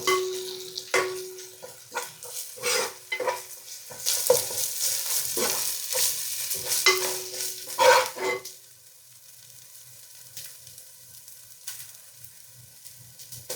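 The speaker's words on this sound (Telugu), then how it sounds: "ఇప్పుడు దీంట్లో అల్లం వెల్లుల్లి పేస్ట్ వేస్తున్నాను. ఈ అల్లం వెల్లుల్లి పేస్ట్ పచ్చి వాసన పోయేంత వరకు వేయించుకోవాలి." Ginger garlic paste frying with onions in a pan, loud sizzling and scraping stirs with utensil clinks for several seconds, then the sizzle settles into a quieter steady hiss.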